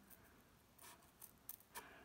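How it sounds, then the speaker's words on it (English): A few faint, crisp snips of scissors cutting through card, spaced irregularly, close and quiet against a soft background. "we're going to take our scissors and cut in from the end"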